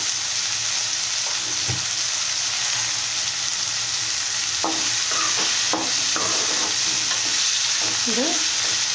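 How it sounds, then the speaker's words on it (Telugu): Tomatoes cooking down in hot oil for a spicy Rayalaseema-style red chutney, a constant loud sizzle with a spoon stirring and scraping through the pan in short strokes. "మెత్తగా టమోటాలు నూనె బయటకు వచ్చేట్టుగా మగ్గాలి"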